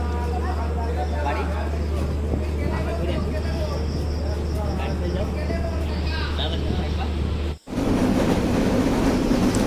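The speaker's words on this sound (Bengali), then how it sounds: "অবশেষে আমাদের ট্রেনটা চলে এসছে ট্রেনের ঠিক বসে পড়েছি" A train runs on rails with a steady low rumble and a rattling carriage. A brief dropout occurs near the end before the rumble resumes. Faint voices can be heard in the background.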